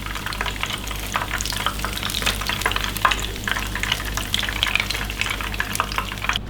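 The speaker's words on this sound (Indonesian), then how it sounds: "kita goreng semuanya ya sampai selesai." Tofu frying in hot oil, a steady close sizzle with crackling pops that continues throughout, with no voices.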